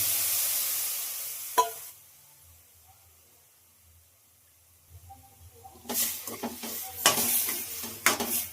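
Peas tipped into a hot pan with coriander powder and red chilli powder, sizzling loudly in bursts with stirring scrapes after a quiet pause, close up and alone.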